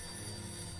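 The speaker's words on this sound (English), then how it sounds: "the phone in the back is ringing" A telephone rings in a back room in the Art of Murder: Curse of the Puppeteer game, a steady electronic bell tone held unbroken through the short moment, fairly quiet against a low background hum, with no voices.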